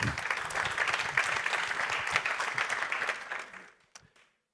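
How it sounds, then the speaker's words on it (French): An audience at a software forge talk claps for a speaker about to take the stage, a dense wash of applause filling the room before tapering off and stopping near the end. "Merci de l'applaudir s'il vous plaît"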